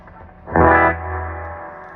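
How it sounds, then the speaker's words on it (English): A Univox U-1226 vintage tube guitar amp sounds a single loud strummed chord, and its spring reverb lets the note ring on as a splashy tail that decays over about a second. "I'll just show you some of the springiness here, the reverb"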